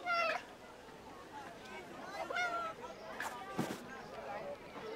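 A cat meows a few times in the video game 11-11: Memories Retold, short tonal cries spread across several seconds amid game ambience, with someone talking over it.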